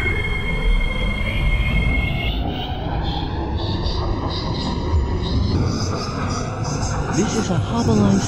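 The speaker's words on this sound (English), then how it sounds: "The train is about to depart." Metro train on the Harbour Line departing from a platform, a constant loud rumble of wheels and motors with rising electric whine and some wheel squeal, while an announcement voice speaks over it.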